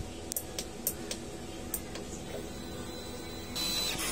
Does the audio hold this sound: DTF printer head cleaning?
yes